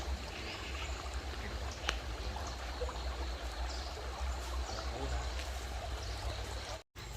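Stream flowing beside a campsite at Baan Suan Ngam in Saraburi, a continuous soft rushing and trickling of water, fairly faint and steady, with a brief dropout near the end.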